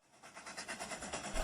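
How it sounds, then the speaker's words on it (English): A train pulls away with a rhythmic clickety-clack of wheels on rails, the regular beats repeating quickly and growing slightly louder over a brief moment, no voices. "the sound of the train driving away from them"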